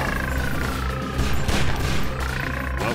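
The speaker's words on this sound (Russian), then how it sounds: "Ой, какой красочный взрыв." A loud, dense explosion in the video game Postal 3, a continuous roaring blast with rumbling low end that swells briefly in the middle and sustains throughout.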